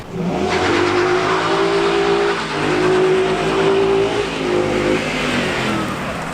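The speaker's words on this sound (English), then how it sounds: "I guess we're gonna baseline too in the Mustang for the inevitable when I modify it?" A stock 2017 Ford Mustang GT V8 revs hard on a dyno, loud and close, climbing in pitch through sustained pulls with a brief dip between runs.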